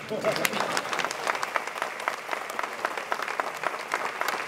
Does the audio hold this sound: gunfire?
no